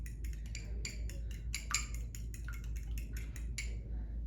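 A utensil clinks and scrapes against a bowl while an egg is mixed into canned chicken, giving a run of quick, uneven taps. The sound is close and fairly quiet over a low steady hum.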